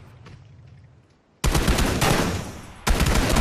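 Automatic gunfire in the battle royale game PUBG during a squad match, loud dense bursts of rapid shots erupting after a quiet stretch, then a second burst near the end, with no talking.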